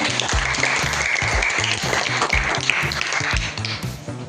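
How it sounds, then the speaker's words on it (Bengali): A quiz audience bursts into loud, sustained applause for a correct answer, dense clapping close and continuous throughout. "জোরে হাততালি হোক।"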